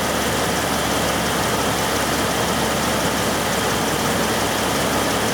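The EVAP leak detection pump on a Chrysler, Dodge or Jeep vehicle runs during a P0455 large-leak check, giving a loud, steady, broadband mechanical hum that stays constant throughout with no talking.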